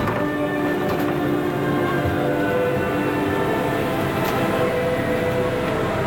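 Tour tram rolling along Officers Row on Angel Island, a steady close rumble with faint rattling and a low hum running evenly throughout, no voices.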